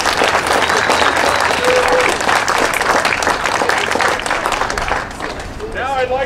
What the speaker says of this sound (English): Give each other a big hand of applause for doing such a great job.